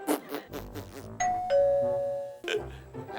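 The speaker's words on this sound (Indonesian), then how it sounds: "bel bunyi tuh" A doorbell sounds a two-tone ding-dong, clear and fairly loud indoors, between stretches of background noise and room sound.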